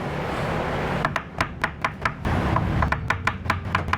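A knife chops mushrooms on a board in a kitchen, with quick, crisp cuts coming in two rhythmic bursts over a faint background hum, and no talking.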